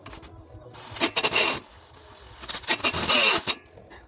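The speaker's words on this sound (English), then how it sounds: "Time to drill a hole and try to slow this die grinder down to be able to drill it." A die grinder bites into metal in two separate bursts, each a harsh, grating, high-pitched rasp lasting about a second. Near and loud, with short pauses before, between and after the bursts.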